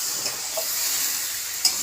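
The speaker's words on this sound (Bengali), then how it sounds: "এবার মাংসটা কষাবো।" Chicken meat is sautéed and stirred in a hot pan with spices. A steady close sizzle runs throughout, with a few soft stirring scrapes and one sharper clink near the end.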